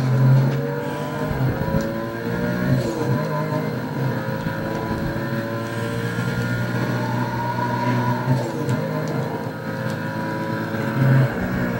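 A car drifting in the Need for Speed racing game gives a sustained engine drone with shifting pitch and rising revs, steady and moderately loud throughout with no speech.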